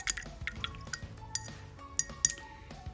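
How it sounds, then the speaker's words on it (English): A paintbrush is swished in a glass jar of water during a galaxy painting, with light watery splashes and several bright clinks of the brush against the glass, close and fairly quiet. "I've just got some water here to rinse my brush off."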